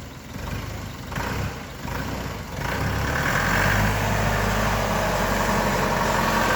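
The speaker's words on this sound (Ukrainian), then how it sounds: "зараз трактор вже їде до нового власника" A DF404G2 tractor engine rumbles steadily at idle, then grows louder as it drives away and holds a deep, continuous drone, with no voices.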